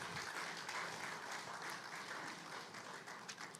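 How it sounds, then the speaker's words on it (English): Applause from the audience at a business conference for SMEs as a speaker is invited up for opening remarks. The dense, steady clapping is fairly faint and continuous. "Can we give a round of applause?"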